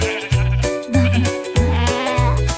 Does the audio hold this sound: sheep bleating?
yes